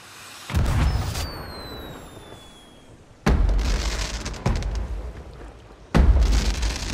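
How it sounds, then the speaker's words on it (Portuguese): Fireworks in the pirate video game Sea of Thieves: several loud booming bursts in sequence, one with whistling rising streaks at the start, each followed by a crackling, rumbling tail. "eu resolvi testar os itens de fogos de artifício"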